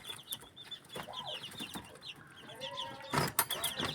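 Young chicks chirp in short, high peeps scattered through a few seconds, with some fowl-like clucks mixed in, close and moderately loud.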